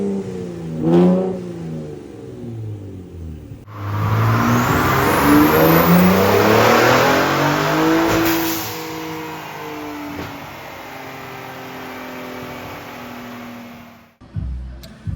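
A Raptor engine fitted with AMS downpipes and an SPD trombone exhaust: first a short rev, then a long, loud, aggressive roar held for about ten seconds before it cuts off sharply.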